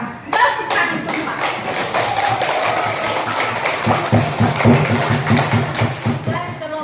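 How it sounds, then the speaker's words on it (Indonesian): Classroom applause from second-grade pupils in a madrasah lesson, a dense, steady patter of many small hands clapping throughout, with voices mixed in. "Tepuk tangan semua."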